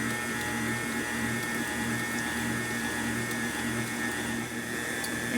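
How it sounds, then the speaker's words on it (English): An electric mixer whirs steadily while boiling water is streamed into chocolate cake batter, giving a constant mid-level motor hum with no talking. "it's important for this step that you keep the mixer going and you keep mixing as you stream"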